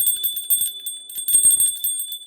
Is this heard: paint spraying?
no